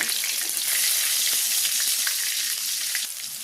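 Garlic paste frying with onions and nigella seeds in a pan, a loud continuous close sizzle with faint stirring clicks, no speech.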